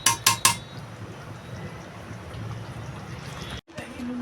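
A metal lid set onto a pot of mutton curry: a few sharp clinks at the start, then a quiet simmering hiss, with a brief cut and another faint clatter near the end.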